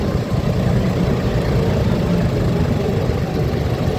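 A tractor engine idles steadily at close range, a constant low mechanical rumble with even vibration and no pauses or revving, heard alone.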